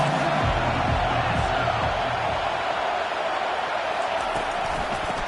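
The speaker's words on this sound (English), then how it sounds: "This crowd trying to make life miserable for this offense." Stadium crowd at a football game, a dense continuous roar of many voices that holds steady and loud throughout, with faint murmured speech beneath it.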